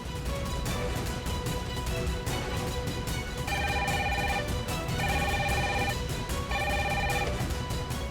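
A telephone rings in three repeated electronic trill bursts over a dense, noisy background, with no talk during the rings.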